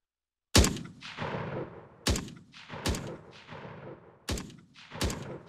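Grenades detonating in an Unreal Engine 5 military first-person shooter, four heavy blasts spaced about a second apart, each a sharp crack trailing into a rumbling decay, with no talk.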